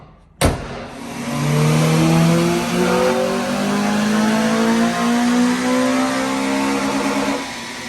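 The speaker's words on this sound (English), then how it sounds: "the FN2 made it up onto the dyno, did an initial run, and now Richard's about to" Honda Civic FN2 Type R on a dyno revs hard in one sustained pull, its engine note climbing steadily for several seconds, loud and close, with no talking.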